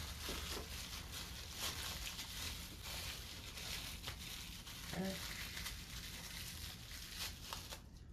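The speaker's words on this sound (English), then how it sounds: "I'm going to unwrap this new motor" Packaging crinkled and crumpled by hand while unwrapping a new small watch winder motor, soft rustling and crackling close by at low level, continuous with brief louder bursts.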